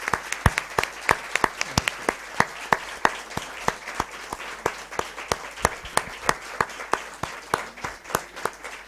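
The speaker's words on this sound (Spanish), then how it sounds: "Un aplauso." A lecture audience applauds in a steady, evenly paced rhythm of sharp, close claps that continue for several seconds, with no voices over it.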